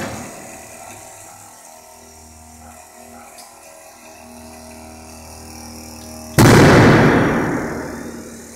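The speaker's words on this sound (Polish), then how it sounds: "automatyczny rozruch turbiny." A gas turbine's automatic start fails: a low mechanical whir and hum with faint clicking builds slowly, then a sudden loud burst of roaring, crackling combustion erupts near the end and fades a little.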